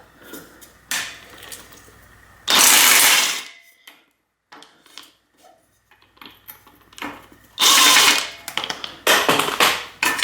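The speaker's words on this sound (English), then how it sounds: "use my impact wrench with this tool here and get this in here seated really well" An impact wrench works on the bottom bracket of a Specialized Allez road bike with a damaged frame, firing two loud, close bursts of hammering rattle, separated by quieter clinks and tool handling.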